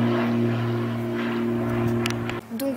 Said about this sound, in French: Je laisse passer l'avion